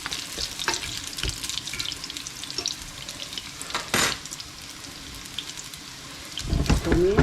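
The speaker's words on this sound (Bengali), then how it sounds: "কাবাবটা একটু উল্টিয়ে দিই তেলটা বেশি গরম হয়ে গেছে" A kebab fries in overheated oil with a continuous crackling sizzle, punctuated by scattered sharp clatters and a louder burst near the end as it is turned or moved.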